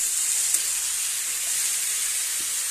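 Tomatoes hit a hot pan with eggplant and potatoes for a dry potato-eggplant curry, giving a steady, close, even hiss of sizzling with no talking.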